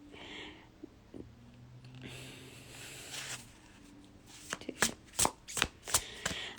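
A deck of cards is handled with soft rustles at first, then shuffled in a rapid series of crisp riffling bursts, close to the microphone and fairly quiet.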